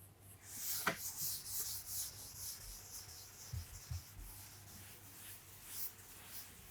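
An eraser rubs out part of a handwritten maths working on paper, giving soft, faint scrubbing strokes in short bursts, with no talking over it.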